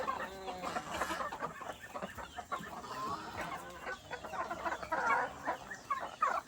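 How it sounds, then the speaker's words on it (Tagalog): Backyard chickens and a rooster cluck busily and continuously as they gather around someone waiting for food, a dense, close chorus of overlapping calls with no one talking. "Ito yung tandang."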